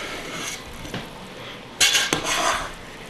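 A spoon gently folds biryani rice in a pot, making soft scrapes, rustles and a few sharper clinks against the metal, up close with no talk.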